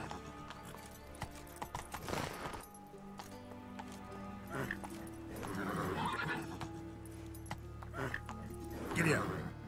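Roach, a horse in The Witcher 3 video game, whinnies and clip-clops at a gallop through the scene, with hoofbeats and neighs rising over steady game music and someone talking to the horse.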